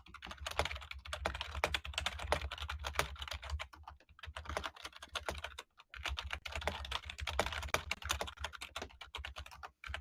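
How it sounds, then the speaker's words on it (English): Rapid, furious typing on a computer keyboard, a dense, continuous clatter of keystrokes at close range that breaks off briefly twice before resuming just as fast, with no talking. "Furious typing."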